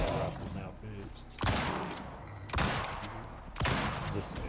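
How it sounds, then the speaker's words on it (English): Rifles blast in a video game, with several loud, heavy bursts of gunfire arriving about once a second and each trailing into echoing rumble, while a voice talks over the barrage. "I just go around just shooting everything, man."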